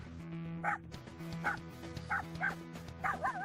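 Small Bichon Poodle mix dog giving five short, sharp yappy barks at uneven intervals over a steady low hum, fairly close and moderately loud.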